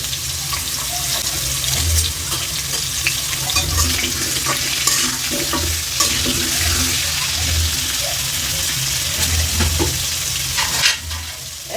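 Beef pieces with turmeric and salt sizzle steadily in a hot pan while a utensil stirs them, scraping and knocking in an uneven rhythm over the constant frying hiss.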